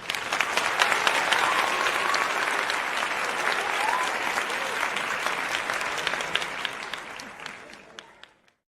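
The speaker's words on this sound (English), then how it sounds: "Can't leave without giving y'all applause." An applause sound effect played during a livestream, a full crowd clapping at steady strength, thinning into scattered claps and cutting off at the end.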